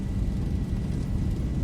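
A Ryanair airliner on its takeoff roll in the flight simulator X-Plane 11 produces a loud, steady, low engine roar with continuous rumble and no break.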